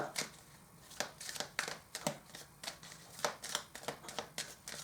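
Angel oracle cards shuffled by hand, producing soft, rapid papery riffles and taps close up over a low background hiss, without any voices.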